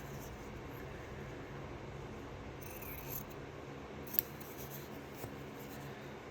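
Scissors snip out an English paper piecing quilt shape, quiet, close crisp cuts in a still room with a couple of sharper clicks.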